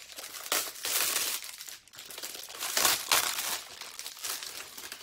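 Plastic wrapping is peeled and crinkled off a face shield in several close bursts of crackling separated by short pauses. There is no talking over it.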